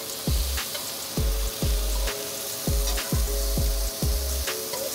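Mexican onions sizzle in a hot pan, a steady frying hiss broken by repeated sharp clinks and scrapes of a utensil stirring roughly every half second, close and fairly loud with no talking.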